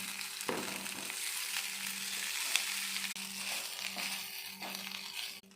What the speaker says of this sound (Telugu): ఇప్పుడు మనం ముందుగా రెడీ చేసుకున్న ఇడ్లీని వేసేద్దాం